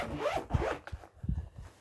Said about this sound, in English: And it's in a nice zip bag.